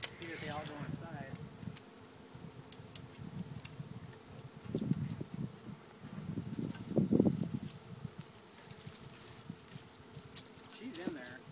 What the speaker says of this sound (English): Majority of the bees are in the box